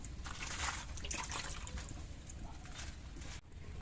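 Cabbage and eggs dropped into a pot of water to boil in a home kitchen, a close splash followed by a steady run of trickling and bubbling water.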